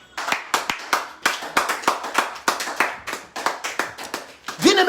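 A church congregation claps together in praise of the Lord, loud, close and in a steady rhythm of sharp beats, with a voice rising briefly at the end.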